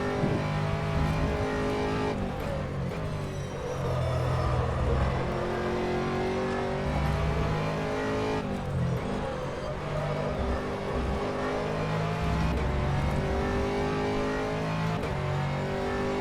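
Aston Martin GT3 race car engine at Sebring in the rFactor 2 racing game, a steady loud drone with continuous revving and shifting pitch throughout, no pauses.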